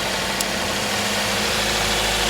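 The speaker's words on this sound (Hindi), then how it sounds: "साउंड भी मज़ेदार हो गया गाड़ी का।" Toyota GLI car engine idling after a tappet adjustment, a steady, even mechanical hum with a faint rhythmic tick, heard close and alone throughout with no voices.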